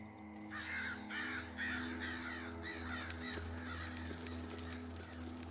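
A crow caws in the 2D survival horror game Darkwood, a run of harsh, repeated calls over a low, steady ambient drone. A couple of sharper caws come near the end, and no one speaks.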